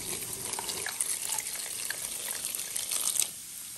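Water pours in a thin steady stream, like a tap running, for about four seconds, quiet and close, as two small cups of water are added while cooking.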